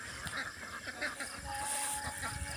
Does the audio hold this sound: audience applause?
no